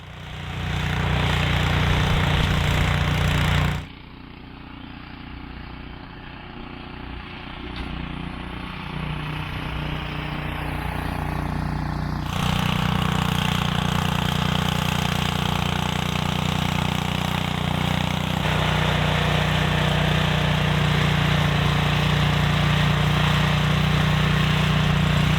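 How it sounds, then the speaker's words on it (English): A Cub Cadet snow blower fitted with a snow cab, clearing snow and throwing it high and far: a loud, continuous engine drone that dips briefly, then builds back up under load and holds steady. "Another thing I learned using a snowblower, right now you can see I'm sending the snow up high and far away"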